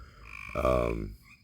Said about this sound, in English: Can you hear the frogs in the background?